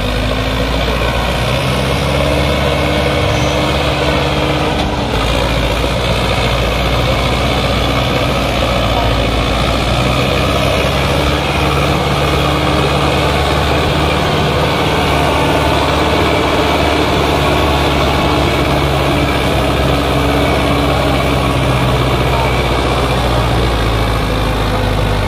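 Tractor engine labouring at full power while stuck in mud, a loud, continuous heavy diesel drone with slight shifts in pitch, close by, lasting the whole stretch with voices faintly mixed in.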